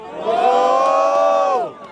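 Crowd cheering and shouting at a Brazilian freestyle rap battle, a loud sustained roar of many voices that swells, holds, then fades near the end.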